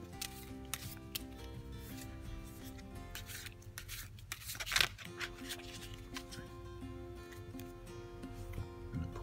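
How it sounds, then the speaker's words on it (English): Playing cards are shuffled by hand at close range, crisp riffling bursts and soft slides repeating over several seconds with one sharper flurry midway. "I'm going to shuffle the rest of the cards."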